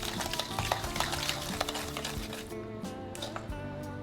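Cake batter beaten by hand with a spoon or whisk in a bowl, a quiet, steady run of wet slaps and scraping strokes close by, with no talking.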